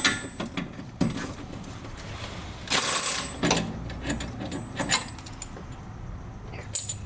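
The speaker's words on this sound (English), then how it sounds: "I'm going to start by taking off this bolt here." Metallic clinks and ratcheting clatter from a wrench working loose an old shock absorber bolt during a coilover suspension install, with scattered taps and a louder burst of rattling partway through, close by and with no talk.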